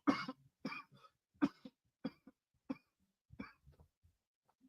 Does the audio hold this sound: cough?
yes